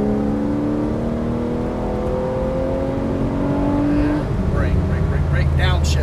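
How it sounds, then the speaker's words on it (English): A 2012 Porsche 991 Carrera S accelerating on a track, the engine note climbing steadily in pitch before a shift, loud and close from inside the car, with a voice speaking near the end. "Now accelerate out."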